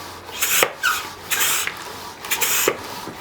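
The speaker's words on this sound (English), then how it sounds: "you can hear big stuff sucking in, stones, and also snail shells, and also the live ones" A pond sludge pump sucking up stones and snail shells along with muddy water, giving a rough, rasping suction noise in uneven surges with a few sharp knocks as hard bits pass through, heard up close.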